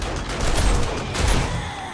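Dart traps firing in the video game 7 Days to Die during a horde night fight, a rapid dense clatter of shots and thuds in loud bursts over a rumbling background.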